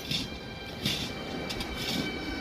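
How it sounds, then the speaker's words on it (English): A modern all-electric passenger train in St Petersburg rumbles along at moderate volume, with a steady rolling drone, faint wheel squeals and periodic clacks. "Lovely modern trains."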